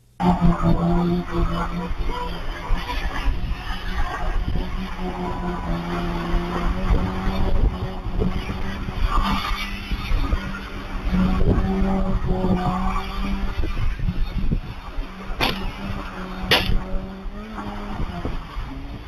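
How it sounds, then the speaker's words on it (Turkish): A car drifting on a road closed to traffic, with a sustained engine roar and long tire squeal that swells and fades, loud and continuous, while voices can be heard under it. "8 araçlık konvoyla ilerleyen sürücülerden biri yolu trafiğe kapatarak drift attı."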